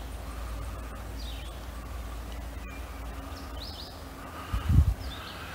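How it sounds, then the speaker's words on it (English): A few faint, high calls from a bird in the trees sound from a distance over a low steady rumble in the Musconetcong Gorge, with a brief thump near the end. "It's a nondescript bird up in the trees with a red eye, gray body, white eyeline."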